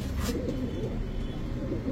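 A racer pigeon coos softly and steadily at close range, a low continuous murmur throughout.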